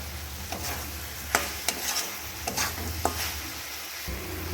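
Boiled amla and jaggery being stirred in a pan into a sticky mixture: repeated scraping strokes and a few sharp spoon knocks against the pan over a low hiss of cooking, close by and without speech.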